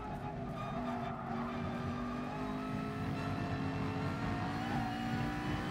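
A McLaren race car in GT Sport at Monza, loud and continuous engine drone with tires squealing and skidding as it nearly loses grip mid-corner, sustained throughout with no talk.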